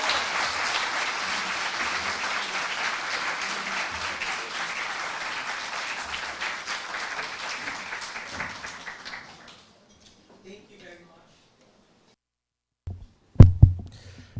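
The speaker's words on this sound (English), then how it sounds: "Let's please give Justice Carpio one more round of applause." Audience applause for Justice Carpio after his talk on Philippine island territories in the West Philippine Sea, a full hall clapping steadily for about nine seconds before fading out, followed by silence and a few loud knocks near the microphone.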